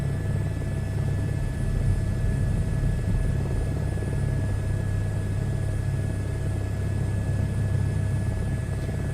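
A helicopter flying in Microsoft Flight Simulator 2024, a constant loud rotor and turbine drone with steady high whine tones, unbroken and close throughout.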